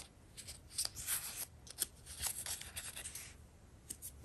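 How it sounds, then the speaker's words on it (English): A small square of paper, cut about two to three inches across, is folded and refolded for a Christmas ornament, giving faint, quiet rustles and creasing rubs in short bursts with no talk. "So you fold it like this and then you're going to fold it again."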